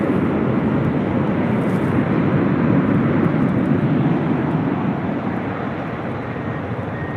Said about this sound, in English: Delta Flight 562 heading to JFK in the 767-300ER, now rolling down 24 left